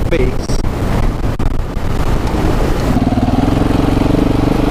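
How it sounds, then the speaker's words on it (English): Steady wind buffets the microphone with a constant low roar on a dual-sport motorcycle ride through dusty Death Valley, the motorcycle's motor droning underneath throughout. "But it's pretty windy."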